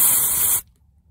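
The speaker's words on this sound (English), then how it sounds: "I'll spray it with the cleaner and use a clean rag to remove the carbon, varnish, and gum." Aerosol throttle-body cleaner sprayed onto a car's throttle body while fixing a hard-starting engine: one loud, steady, close hiss lasting about half a second, then cutting off abruptly to near silence.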